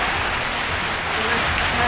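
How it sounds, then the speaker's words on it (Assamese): Rain falls steadily at a duck farm, a dense, even hiss that stays constant and fairly loud from start to end, with no voices over it. "এতিয়া বৰষুণ আহিছে"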